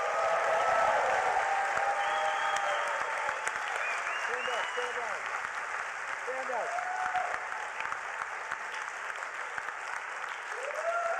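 Sustained applause from a crowd fills the room, steady and dense, with voices talking and calling out underneath.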